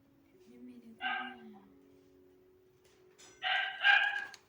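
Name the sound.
dog barking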